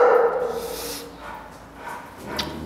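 Kennel-housed training dogs uneasy at a stranger's presence give a few scattered barks and soft whimpers, fairly near, against a quiet room background with no talk.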